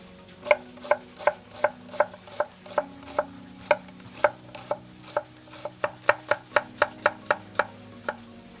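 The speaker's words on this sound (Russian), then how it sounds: "Лук. 2 головки. Нарезаем на средний кубик." Two onions being chopped into medium dice on a cutting board, with a steady run of crisp knife strikes, about two per second, close and loud, pausing briefly midway before the rhythm quickens.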